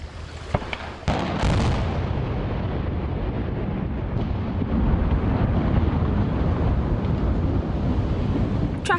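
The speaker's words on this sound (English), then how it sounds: "The 60-foot section of Milton Madison Bridge between Kentucky and Indiana was taken down in an epic but controlled explosion." Controlled demolition blast brings down a 60-foot section of the Milton Madison Bridge between Kentucky and Indiana: a sharp crack followed by a sustained, heavy rumbling roar that rolls on for several seconds.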